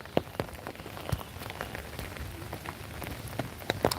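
Steady rain weather effect in the Pokemon GO mobile game, a dense continuous patter of raindrops with scattered sharper drip ticks, moderately loud and even throughout, with no voices.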